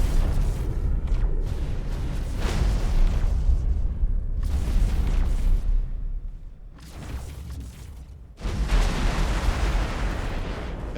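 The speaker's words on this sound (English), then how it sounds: "What just exploded?" Explosions in the space game X4, near a hostile station: heavy, rumbling broadband blasts in several long surges, loud and close, with a brief lull before a final burst and no voices.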